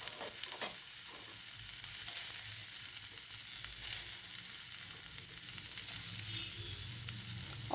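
Crushed garlic and finely chopped onion fry in a pan for sweetcorn snacks, making a dense, continuous, close sizzle with occasional crackles and stirring scrapes, and no voices.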